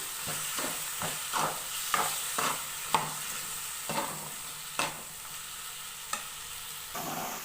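Mutton frying in a pan with ginger-garlic paste, a steady sizzle and hiss under repeated scraping stirs about every second, close and alone with no talk.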